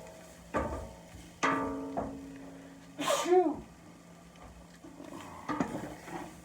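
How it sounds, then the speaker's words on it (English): A single loud sneeze from pepper while cooking gumbo bursts out nearby, with faint kitchen clatter and quiet movement before and after. "The pepper in there make you sneeze a little bit."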